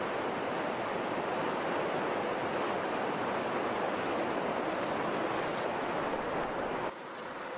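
River rapids on the West Aubinadong River rush in a loud, steady broadband roar, close by and unbroken. The sound drops slightly just before the end, with no talk over it.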